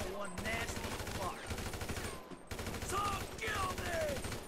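Automatic rifle fire from a zombie-filled prison level in GTA 5, sustained rapid bursts running loud nearly throughout, with a brief gap midway and a voice speaking over the shooting.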